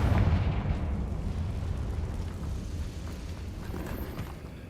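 A Confringo blasting spell detonates inside a cave in Hogwarts Legacy, a heavy rumbling boom strongest at the start that gradually decays over several seconds.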